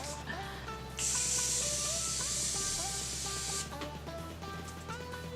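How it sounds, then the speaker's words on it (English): A Morphe Continuous Setting Mist bottle is sprayed onto a face in one steady, close hiss lasting about two and a half seconds. Quiet room tone and faint background music sit underneath. "I'm going to be using my Morphe Continuous Setting Mist"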